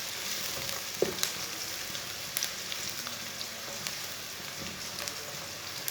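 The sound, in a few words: chopped white onion frying until half brown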